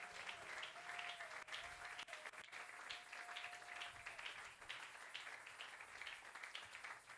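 A church congregation applauding, sustained clapping as a fairly faint, continuous wash of many hands, with a thin sustained tone running underneath for the first few seconds.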